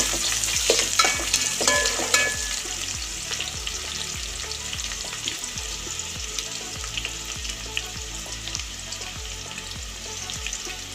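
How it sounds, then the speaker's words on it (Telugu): Sliced onions fry in a pan for chicken curry pulao while a spoon scrapes and stirs them, a continuous close sizzle broken by regular rhythmic scraping strokes. "తర్వాత ఉల్లిపాయలు వేసుకున్నాం కొద్దిగా ఇట్లా యాగలిస్తాం"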